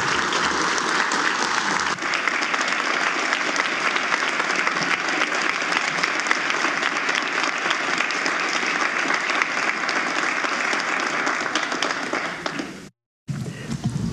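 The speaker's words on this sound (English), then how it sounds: "another big round of applause for our Chief Justice C. Shannon Bacon" Sustained audience applause fills a legislative chamber after the Chief Justice's State of the Judiciary address, loud and steady for about thirteen seconds before cutting off abruptly, with a brief resumption at the end.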